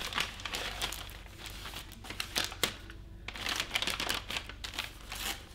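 Wrapping paper on a wrapped Christmas present is torn and crumpled open, giving continuous close crinkling and ripping in repeated bursts with a brief pause in the middle.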